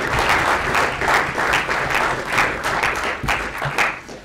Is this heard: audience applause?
yes